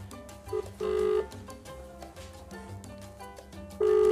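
A phone call rings out over a speakerphone in a home, with short electronic ring tones repeating at intervals and quiet room noise between them.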